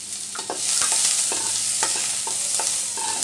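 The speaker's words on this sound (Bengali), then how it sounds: "এবার আমি পেঁয়াজটাকে একটু হালকা ভাজা করে নিব।" An onion fries lightly in a hot pan while a utensil stirs it, giving a steady close sizzle broken by repeated scraping clacks throughout.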